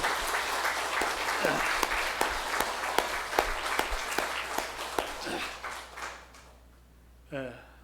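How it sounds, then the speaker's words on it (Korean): A church congregation at a Sunday worship service breaks into loud, sustained applause, dense and even at first, then thinning out and fading. A voice is heard briefly as the clapping dies away. "우리 한번 큰 박수로 우리 시원차임에 참 감사합니다"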